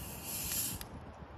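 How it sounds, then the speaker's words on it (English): A Coca-Cola soda bottle is twisted open, letting out a short close fizzing hiss of escaping gas that fades within about a second, with no talk. "Let's start by opening the soda."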